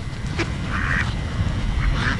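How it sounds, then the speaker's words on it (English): Ducks quack in a park, a few short calls rising over a steady low outdoor rumble, fairly close and loud. "And then look at these ducks, they're about to fight."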